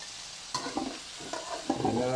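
Tulingan fish sizzles and crackles in hot cooking oil, with bursts of frying and spatter as the pieces are laid in the pan, close and moderately loud with no talking.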